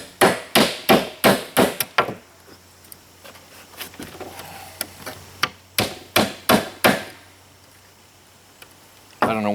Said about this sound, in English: hold it straight while I pound one end of each staple out